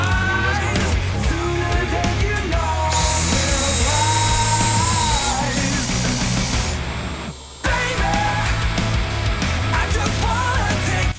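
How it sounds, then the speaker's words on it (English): A drill at full power, set to speed 2, drives a 6-inch lag bolt with a loud, continuous whining grind that strains and briefly cuts out near the end before resuming. "I'm actually surprised that the drill was able to get that lag bolt in there"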